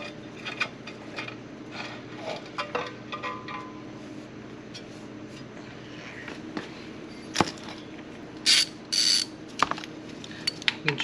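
Hex bolts being loosened from an aftermarket T-Rex skid plate on a Kawasaki Versys X300 motorcycle: quiet close metallic clicks, ratcheting and tool taps, with a few short louder rattles near the end, no talk.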